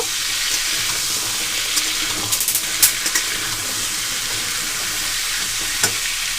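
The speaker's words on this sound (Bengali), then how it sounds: "এবার আমি কেটে রাখা কুমড়ো আর কাঁচা লঙ্কা এখানে দিয়ে দেবো কুমড়োগুলো একদম লাল লাল করে খুব ভালো করে ভেজে নেব" Pumpkin and green chillies frying in a pan, a loud, dense, hissing sizzle that runs steadily throughout, with occasional light clicks and scrapes near the middle.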